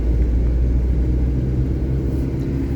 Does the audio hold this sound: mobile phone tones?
no